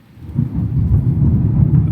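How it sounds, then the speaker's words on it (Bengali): The season's first storm over Faridpur town rumbles as low, rolling thunder mixed with rain, building from quiet to a loud, continuous roar that stays steady to the end with no voices. "এই ফরিদপুর সদরে আজকেই প্রথম বৃষ্টি হচ্ছে"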